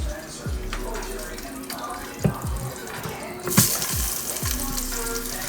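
An Instant Pot insert is set in a kitchen sink under running tap water, with a steady splashing stream, dripping, and a few clanks of metal against the basin.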